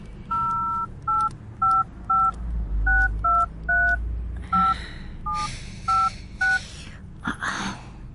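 Touch-tone telephone keypad being dialed to call a taxi: about fifteen short dual-tone beeps in an uneven rhythm, close and clear, with faint room noise and brief rustles between presses.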